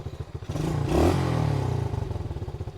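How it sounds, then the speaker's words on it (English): Pit bike engine kick-started and idling, a close, loud rough chug that surges briefly as it catches, then settles into a steady, rapid thumping idle with a rattling clatter. "we're going to see if this thing starts and idles"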